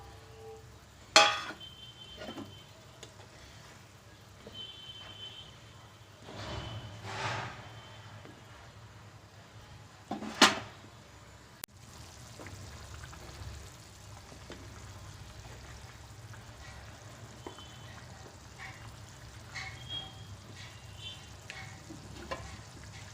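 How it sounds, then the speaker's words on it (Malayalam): Roasted gram flour (besan) stirred into a hot pan while making besan laddu, with a soft continuous sizzle and scraping of the spoon, broken by a few sharp clinks against the pan. "ഒന്ന് ഇളക്കി ഇട്ട് നമ്മൾ ആ വറുത്ത് കോരി വെച്ചിരിക്കുന്ന ആ കടലമാവിൻ്റെ അത് ഇട്ട് കൊടുക്കാം"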